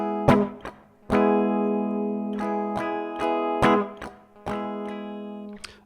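A movable electric guitar riff opens with a hammer-on, then moves into sharp rhythmic strums and muted scratches, close and clear with no talking.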